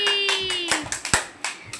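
Children clap their hands in a quick scatter of sharp claps near the mic, uneven in rhythm, with a high electronic tone sounding over the first half.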